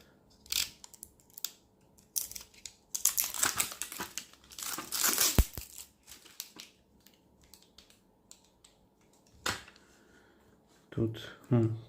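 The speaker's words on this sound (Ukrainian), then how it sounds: "негорючий скотч у нас" Non-flammable adhesive tape crinkles and rips in irregular bursts nearby while an electric bike battery is dismantled, with quiet gaps between handling and occasional speech mixed in.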